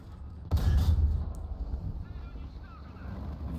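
A single loud tank cannon shot from an IS-6 in War Thunder, a sudden deep boom that rumbles away into wind-like noise, heard alone.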